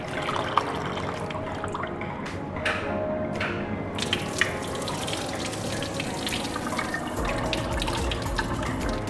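Soybeans are washed in water while making tempe, with continuous close splashing, sloshing and pouring water plus occasional knocks and rustles.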